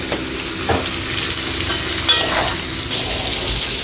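A curry base of ginger, garlic and mixed spice paste fries and sizzles in a pan, a continuous close crackle broken by a few stirring scrapes.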